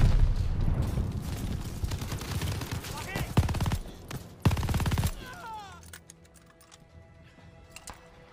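Machine gun fire in the video game Call of Duty Vanguard: rapid bursts of loud automatic shots in several rattling volleys, mixed with battle noise and shouting voices, then tailing off into a quieter stretch with scattered distant shots.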